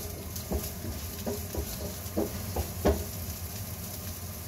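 Vegetables stir-frying with ground white pepper in a pan, a steady sizzle with intermittent soft stirring scrapes and taps from a utensil, fairly close.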